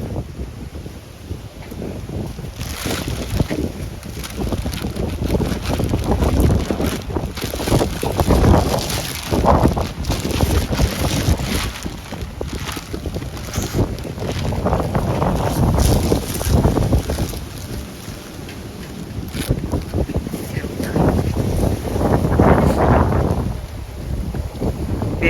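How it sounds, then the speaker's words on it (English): Strong wind gusting through garden trees after sleet, a loud continuous roar with heavy buffeting across the microphone, surging and easing in waves with no talking. "Very windy, y'all. You see the trees going."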